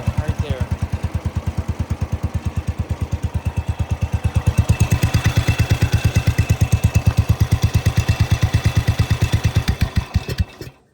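A Cub Cadet 105 lawn tractor engine idles steadily nearby, with a fast, even chugging pulse that grows slightly louder midway before the engine is shut off and stops at the end.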